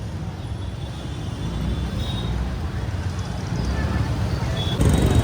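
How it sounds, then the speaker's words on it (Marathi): Busy roadway traffic near a crowded Ganpati festival, a steady broadband rumble of vehicles and crowd murmur that swells slightly louder toward the end. "ट्रॅफिक सुरू झालेलं आहे."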